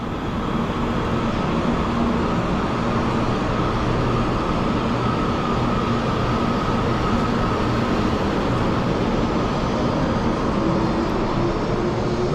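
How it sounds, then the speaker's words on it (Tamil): A high-speed train in Taiwan produces a steady, loud rushing roar with a low rumble, continuous and unbroken throughout, with no voices. "High speed train."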